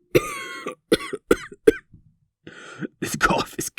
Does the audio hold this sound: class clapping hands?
no